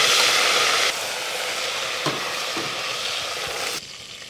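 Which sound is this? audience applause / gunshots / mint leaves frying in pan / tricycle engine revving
mint leaves frying in pan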